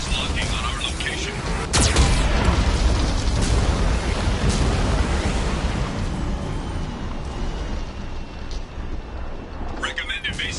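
Heavy booming explosions and rumbling blasts from Mass Effect 2 cannon fire fill the scene, with a sharp impact near the start, under a steady synthetic warning voice.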